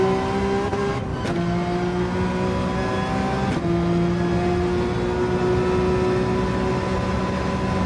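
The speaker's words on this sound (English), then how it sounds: "you can rev that out more than the Ferrari 458" A Porsche 911 race car engine in Gran Turismo 7 revs high and steady through a lap, its sustained whine shifting pitch after quick gearchange breaks, loud and continuous with no talk.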